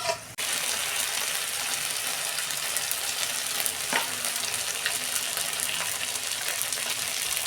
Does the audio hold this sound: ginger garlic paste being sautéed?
yes